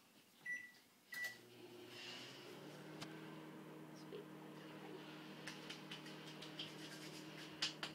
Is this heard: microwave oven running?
yes